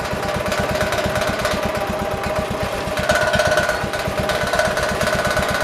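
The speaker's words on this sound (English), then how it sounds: "Let me throttle it up real quick and we'll check that deck out." Riding lawnmower engine throttled up with the mower deck engaged, a loud, fast, steady chugging pulse close by, running alone without any talk.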